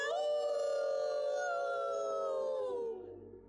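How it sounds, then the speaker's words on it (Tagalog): Wild forest dogs howling in a deep woodland, one long loud sustained howl with rich layered tones that slowly falls in pitch before fading into quiet. "Sa malalim na bahagi ng kagubatan, maririnig ang malakas na ungol ng mga asong gubat."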